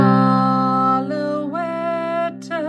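Sustained electronic keyboard tones ring out clearly, starting on a held G with a few smooth pitch changes after it, loud and close with no voices.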